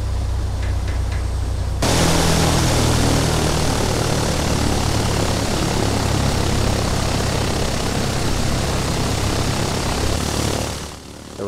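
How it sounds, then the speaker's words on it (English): A Piper Cherokee 180 engine idling in the FSX flight simulator, a steady loud propeller drone that starts abruptly after a quieter hum, holds evenly for about nine seconds, then fades out. "So she's running nicely, just gonna give her a bit of RPM. Wanna idle under 1000 RPM to warm her up."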